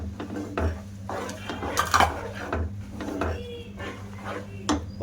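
A spoon stirs and clinks against a metal pot as powdered milk is mixed into a rice and mango sweet, giving irregular scraping and tapping sounds at close range with no talking.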